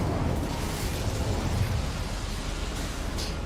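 Incendio fire spell from Hogwarts Legacy igniting boilers, a steady whooshing roar of flame with rumbling low end, loud and sustained without a break.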